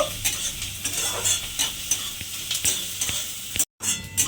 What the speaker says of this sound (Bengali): এবার পেঁয়াজ আর রসুনটা একটু আমি লাল করে ভেজে নেব